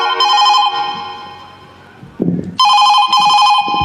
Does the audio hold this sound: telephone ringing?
yes